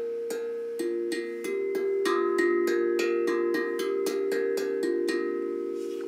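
Bright metallic tones from a steel tongue drum struck by hand in a steady run, about a dozen ringing notes layered over each other, each sustaining with a clear bell-like shimmer.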